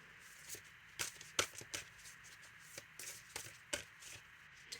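Tarot deck being shuffled by hand at close range, a soft irregular series of quick riffling flicks and card taps, quiet against a faint room background.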